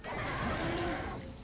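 Horse neighing in the video game Darksiders 2, a brief whinny heard close amid a dense game soundscape.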